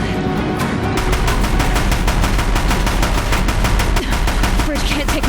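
Deathbringer war machines in Horizon Zero Dawn firing heavy guns at a bridge, a loud, rapid, continuous stream of close machine-gun shots with rumbling impacts underneath.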